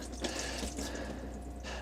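Bison ribeye steaks are rinsed under bottled water over a sink in a wild camp setting, producing a close, steady splashing pour with slight breaks in the flow.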